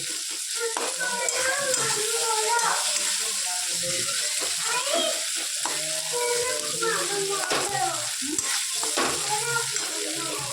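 Food is mashed and stirred in a pan with a spoon, producing steady scraping, clinking and soft squelching strokes throughout, alone and close.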